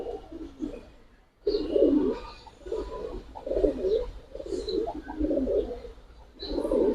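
A pair of Giribaz pigeons coo close by in repeated, throaty bursts, one after another with short gaps, moderately loud against a quiet background.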